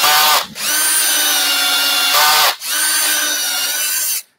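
Power drill boring into wood during a woodturning job, a loud steady whine in two long bursts with a brief pause between them, close and alone.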